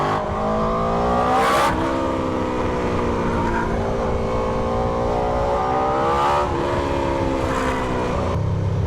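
An SC GP22 exhaust on a motorcycle rumbles steadily with deep harmonic tones, swelling into loud revs twice before settling back to a throaty idle, close by.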